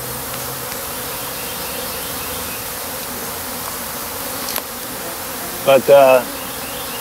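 Honey bees humming steadily inside an open top bar beehive, a dense close buzz throughout, with a brief voice and a couple of light knocks near the end.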